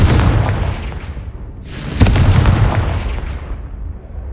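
A fire spell explosion in the Hogwarts Legacy video game, a loud booming burst that rolls on with a rumbling tail and then a second heavy blast about halfway through, with no voices.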